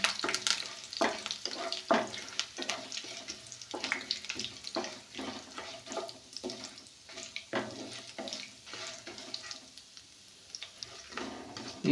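Curry leaves and a dried red chili crackle in hot tempering oil for a tomato boiled egg fry, with a continuous close sizzle broken by frequent scraping stir strokes and no voices.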